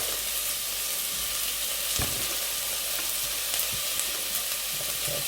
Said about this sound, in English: watch that the oil's not too hot, and just get all your onions in